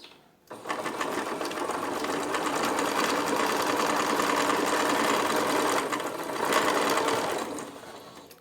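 Sewing machine stitching a zigzag on fabric, a rapid steady mechanical chatter running continuously for several seconds, briefly easing and then speeding up again near the end, close and alone.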